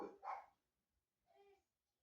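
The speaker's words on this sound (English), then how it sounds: "Sure you can hear the dogs." Dogs give two short barks in the distance, faint and separated by a pause, in an otherwise quiet outdoor setting.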